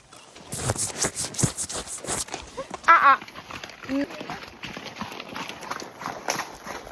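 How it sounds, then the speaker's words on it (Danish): Horses' hooves clip-clopping on a forest ride in wet conditions, a quick irregular patter of close hoofbeats running through the clip, with people talking over it and one louder animal call midway. "Vi har lige fået galopperet lidt på hestene."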